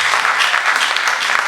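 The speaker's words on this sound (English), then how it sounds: "Give them a round of applause" A church congregation at a central bank's anniversary service bursts into steady, dense applause that fills the space evenly throughout, sustained clapping from many hands with no break.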